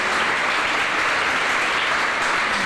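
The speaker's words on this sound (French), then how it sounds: "je demande de l'applaudir très fort." A trade-show audience claps loudly and steadily in a dense, unbroken burst of applause with no voices over it.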